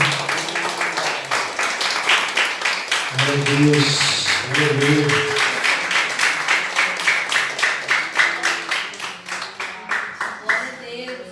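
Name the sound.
church congregation applauding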